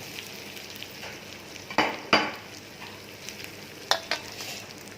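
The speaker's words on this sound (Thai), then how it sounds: "นำไข่ลงไปได้เลยครับ ตอนนี้" Eggs poured into a hot pan for a Thai holy basil stir-fry with omelette, giving a steady close sizzle broken by a few sharp metallic clatters of a spatula against the pan.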